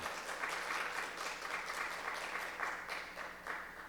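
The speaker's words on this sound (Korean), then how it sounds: "다시 한번 하나님께 영광의 박수 올려드리도록 하겠습니다" Steady applause from a congregation during a church worship service, a continuous wash of many hands clapping at a moderate, slightly distant level with no talking.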